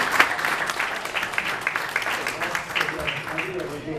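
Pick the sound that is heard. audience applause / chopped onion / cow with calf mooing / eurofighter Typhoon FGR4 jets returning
audience applause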